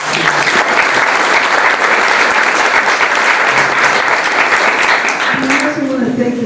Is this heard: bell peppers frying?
no